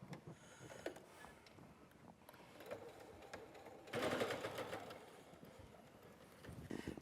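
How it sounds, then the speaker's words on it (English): Sewing machine back stitching along quilt binding on a quilt-as-you-go cutter cover, a close mechanical whir that surges louder for about a second midway, with quieter machine hum around it. "I'm gonna back stitch here"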